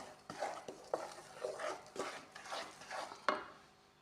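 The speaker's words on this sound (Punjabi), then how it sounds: "ਇਹ ਥੋੜਾ ਜਿਹਾ ਆਪਾਂ ਵਿੱਚ ਨੂੰ ਹਿਲਾਉਂਦੇ ਵੀ ਰਹਾਂਗੇ ਕਿਉਂਕਿ ਕੜਾਹੀ ਹੁੰਦੀ ਆ ਆਪਣੇ ਗਰਮ" Quiet, rhythmic scraping of a spoon stirring in a hot kadai while making besan barfi, repeated strokes about twice a second with occasional light clinks.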